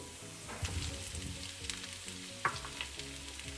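Boiled chopped potatoes hit hot oil with spices and green chilies for aloo sukhi sabji, giving a close, continuous sizzle with occasional stirring clinks and scrapes in the pan.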